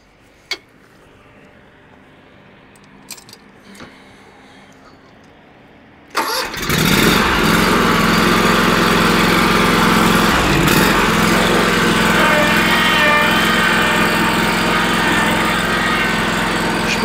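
Quiet shuffling and small clicks, then a lawn tractor's small engine cranks and catches abruptly, settling into a loud, steady mower drone that runs on.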